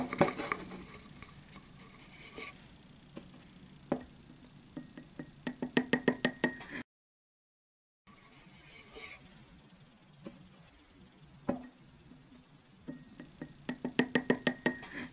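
Quiet rapid clinking and tapping of a whisk against a bowl, mixing a homemade face-care mixture with starch, coming in bursts of quick strokes with a short silent gap midway.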